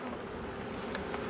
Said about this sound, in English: Still quite a few bees in there.